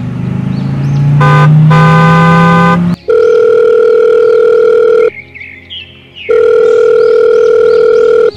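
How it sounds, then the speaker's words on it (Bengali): A mobile phone rings loudly with a repeating electronic tone, pausing briefly between rings, after a rising hum like a passing car. "ফোনটি বাজছে।"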